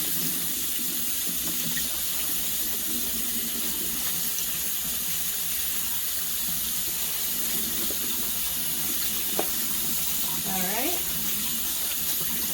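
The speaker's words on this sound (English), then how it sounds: "we're going to rinse them in cool water" Cool tap water runs steadily into a sink while eggplant slices are rinsed, a continuous bright hiss of flowing water throughout, with a brief spoken word and small clinks near the end.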